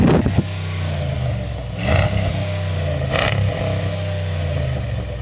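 The 5.7-liter Hemi V8 engine of a Jeep Commander idles with a deep rumble, then revs up twice in quick bursts before settling back, close and loud.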